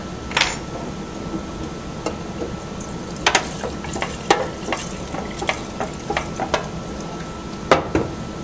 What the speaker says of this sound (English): Here we've got some just plain old acetone, and this is how I mix my dope.